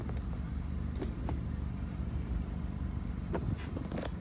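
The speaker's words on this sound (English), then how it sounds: "you put your foot on the brake, and in this case, push the clutch in, and it'll start right up for you" A 2016 Mazda Miata convertible with a 6-speed manual runs with a steady, low engine rumble close by, holding an even idle for the whole stretch with a few faint clicks over it.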